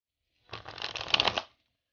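A brand-new deck of Bicycle playing cards is riffle shuffled American style in one quick burst of crisp, close fluttering that rises and then stops, lasting about a second.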